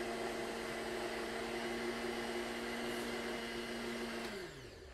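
A blender whirs steadily as it purées raw hummus, with a loud, constant motor drone that winds down and spins to a stop near the end.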